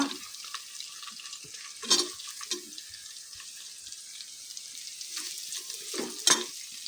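Chopped onion with beef and potato cooks in a pan with a soft low sizzle, punctuated by several loud scraping stirs, clustered near two seconds and again around six seconds.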